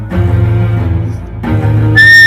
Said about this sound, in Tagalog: Ang narinig niya naman ang nakakatakot at pamilyar na sipol na yun.